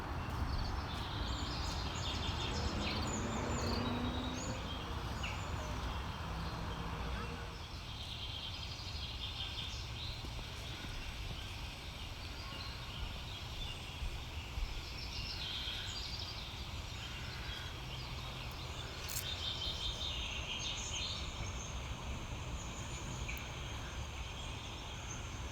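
Birdsong chirps softly and steadily through a forest during a nature walk, under a constant wash of outdoor ambience with no one speaking.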